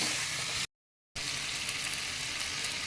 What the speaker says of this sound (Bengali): এবার আমি ভালো করে এগুলো কষিয়ে নেব